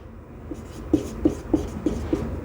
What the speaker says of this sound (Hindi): यहां पर लिख दे रहे हैं